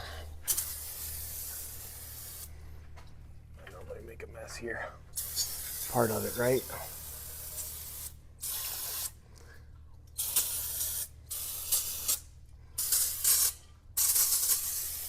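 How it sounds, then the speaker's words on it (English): Repeated bursts of brake cleaner aerosol spray hiss loudly in short and long blasts with pauses between, while a person speaks briefly partway through; cleaning during maintenance on a high-mileage L5P Duramax truck. "So I will grab my brake clean, and we will get this spray down."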